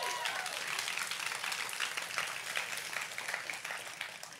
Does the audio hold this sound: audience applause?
yes